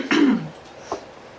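A single short cough bursts out near the start, loud and close, followed by a faint second throat sound a moment later.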